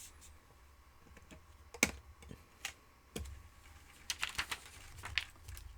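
Paper folded along score lines with a bone folder while making a custom envelope: quiet, close crisp creases and soft scraping clicks in irregular bursts, with faint room hum underneath.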